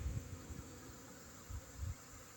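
Honeybees fly out on a winter cleansing flight at an apiary in Cherkasy region, making a steady, faint buzzing hum with a few louder low swells.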